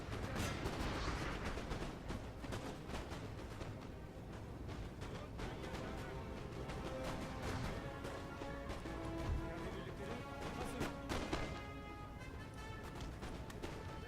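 Musket volleys in Napoleon: Total War, Greece campaign against an Austrian advance: many crackling shots ripple together in a quiet, distant battle din, with steady background music underneath.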